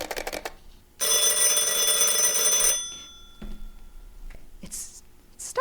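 An old-fashioned telephone bell rings loudly and steadily for about two seconds in a radio drama, a dense metallic trill that cuts off abruptly, followed by faint handset clicks and quiet room noise.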